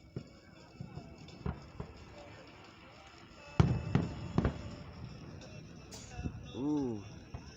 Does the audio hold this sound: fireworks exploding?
yes